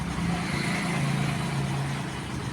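A repaired scooter engine runs smoothly at steady idle, an even, continuous mid-pitched hum with a faint regular putter, moderately loud and close, with no voices.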